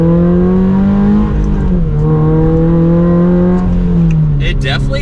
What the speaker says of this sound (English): it makes it sound like that Boxer 4-cylinder, especially on the startups and some of those pops